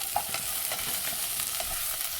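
Chopped okra and tomato fry in a pan with salt, giving a steady, close sizzle broken by soft scraping clicks as the mixture is stirred, with no voices.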